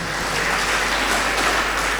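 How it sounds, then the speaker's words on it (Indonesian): Applause from an audience at an Indonesian political party's first anniversary gathering, a steady dense clatter of many hands clapping throughout, fairly loud with no voices over it. "Tepuk tangan untuk kita semua."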